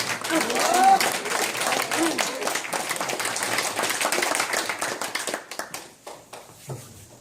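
Warm applause from the audience at a concert event in a council setting, dense clapping filling the room and tapering off toward the end, with some talk mixed in.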